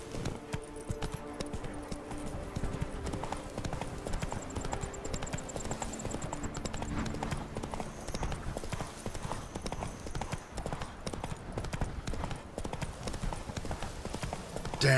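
Rapid clip-clop of horse hooves galloping steadily throughout, set in the video game The Witcher 3: Blood and Wine, over continuous game ambience and faint music.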